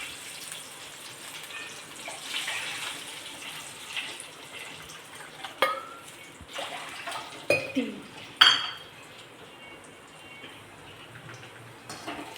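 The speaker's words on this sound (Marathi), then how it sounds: "त्या रव्याच्या 3 वाटी भरून आपण पाणी टाकणार आहोत" Water is poured into a pan on the stove to make semolina sheera for a prasad offering. The pour is a soft, continuous trickle with a few sharp metallic clinks and knocks of the vessel, faint and close by.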